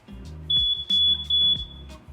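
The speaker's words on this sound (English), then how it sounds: "Alarm 2 detected smoke." A smoke alarm in a web-based fire detection system sounds a steady high-pitched electronic tone, with loud repeating pulsed bursts layered over it, close and clear, with no talking.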